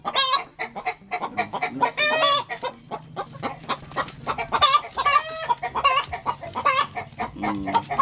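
Barred Plymouth Rock hens cluck loudly and busily close by while laying eggs, with repeated drawn-out cackles rising over steady farmyard clucking and no one speaking.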